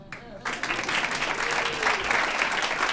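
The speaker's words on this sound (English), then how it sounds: "You may applaud." A concert audience breaks into applause for an engaged pair of musicians, a close, continuous patter of many hands that swells in quickly and holds steady.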